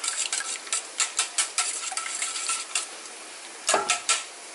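Three eggs being whisked in a bowl, heard as a quick rhythmic series of close clinking, scraping strokes against the bowl, with a brief pause before a final burst.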